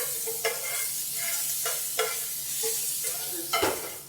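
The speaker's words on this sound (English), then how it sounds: "Let that roll around in the pan a little bit." Ingredients frying in a pan while being stirred, a steady close sizzle broken by several sharp scraping strokes spaced about a second apart.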